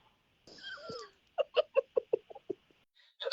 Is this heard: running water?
no